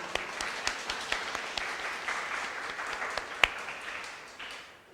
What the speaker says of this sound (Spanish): Aplaudan un poquito más, que estaba nervioso.